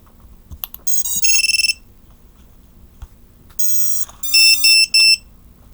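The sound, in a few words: drone battery alarm beeping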